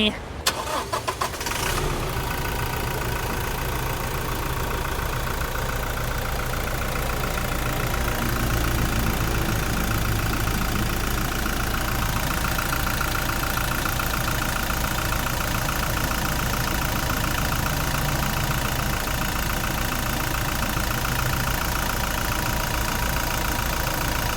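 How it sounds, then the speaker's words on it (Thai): A 2018 Toyota Hilux Revo 2.4E pickup truck engine starts up and then settles into a steady, close idle, running evenly for a long stretch with faint voices underneath. "ฟังเสียงเครื่องยนต์กันหน่อย"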